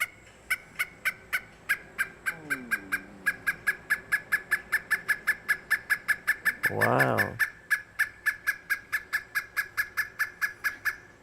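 A recorded pileated woodpecker call: a long series of loud, evenly spaced piping notes repeating steadily at about three per second. A voice briefly exclaims partway through.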